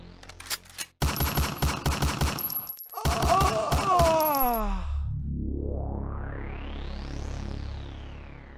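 Gunshot sound effects in a Bengali comedy drama about a thief: bursts of rapid machine-gun-style fire, then a long sweeping effect building to a peak and fading, loud and without talk.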